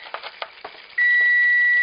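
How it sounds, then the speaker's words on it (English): Kitchen timer used while cooking chicken in sweet wine sauce sounds a loud, sustained electronic beep that starts abruptly partway through, after some faint clinking and stirring noises. "you're going to turn off your timer because that can get annoying"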